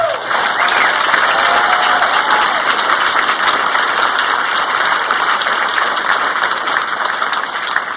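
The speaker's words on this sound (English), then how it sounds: "Let's give them a round of applause." Large crowd applauding Kansas Honor Flight volunteers at a welcome-home event in Wichita, a loud, sustained, even roar of clapping from many hands with no pauses.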